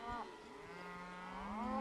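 Cattle being herded on horseback moo nearby, one drawn-out low call overlapping with another rising moo, over a faint outdoor background.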